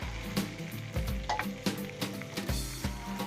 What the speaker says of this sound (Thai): จากนั้นเราก็ใส่กุ้งที่เราช้อนมาจากคลองธรรมชาติลงไปเลยนะครับ